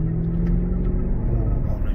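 A Mercedes CLS 63 AMG on the move gives a deep, steady engine rumble from inside the cabin, a loud low drone with a faint hum above it and no words spoken.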